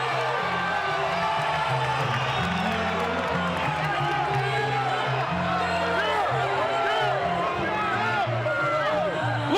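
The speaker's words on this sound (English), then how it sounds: "The crowd is going bonkers" A packed boxing arena crowd at the Oscar De La Hoya vs. Floyd Mayweather fight roars and cheers without letup, with whoops and scattered clapping in a loud, dense wall of sound that carries voices and commentary.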